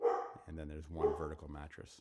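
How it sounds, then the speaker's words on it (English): A dog barks and yips in short bursts nearby, partly under a voice explaining something, then ends with a higher whimpering yelp. "Apologize about the dog."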